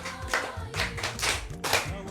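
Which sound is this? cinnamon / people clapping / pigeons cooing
people clapping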